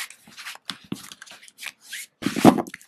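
A deck of tarot cards shuffled by hand in several quick, crisp riffling bursts with short pauses between, close and fairly loud, with no talking.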